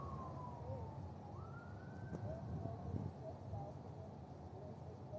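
A distant emergency siren, an ambulance or police car near a street blocked by police, wails in slow rising and falling sweeps over outdoor background noise.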